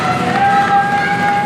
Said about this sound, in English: And listen to this crowd here.